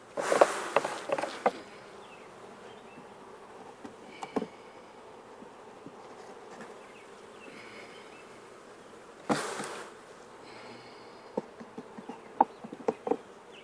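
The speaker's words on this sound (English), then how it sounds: "we're going to shake all 5 of these frames of bees in here" Honeybees buzzing in a steady, faint drone while frames are shaken into a box, with occasional thumps and rustling bursts as the bees drop in.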